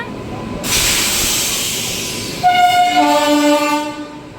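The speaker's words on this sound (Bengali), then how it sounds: "এই দেখো আমাদের ট্রেন হচ্ছে ঢুকে পড়েছে একবারে পুরো টাইমেই ঢুকেছে" A passenger train pulls into a station platform, a broad rumbling hiss swelling in at first, then steady wheel and brake squeal tones ringing out loudly near the end as it slows.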